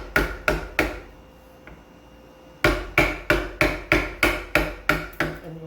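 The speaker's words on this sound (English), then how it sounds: "you're going to come in with your chisel, but this time we're going to go bevel down" Chisel held bevel down and struck to clear waste from a curved cut in wood, two sharp mallet blows, a pause, then a steady run of about nine evenly spaced loud knocks, close and alone.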